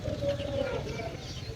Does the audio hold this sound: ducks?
yes